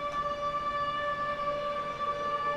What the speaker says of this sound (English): We'll leave the sirens for like another 2 minutes and then I'll send them off.